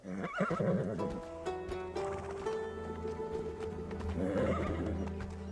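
A horse neighs loudly nearby with a long quavering whinny, then hooves clip-clop in short bursts amid movie music and rustling, with little talk.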